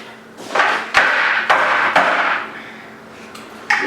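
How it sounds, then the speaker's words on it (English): Several loud thumps and whacks as a Singer 151 dress form is struck to make it sit flat during setup, a handful of sharp hits in the first two seconds followed by quieter knocks, with no talking. "Give it a bit of a whack to sit flat."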